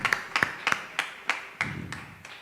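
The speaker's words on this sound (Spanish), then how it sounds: "Dale ese aplauso fuerte" Sparse, rhythmic hand claps ring out in a church service, about eight distinct claps at an even pace, fairly close and moderately loud, with no talk over them.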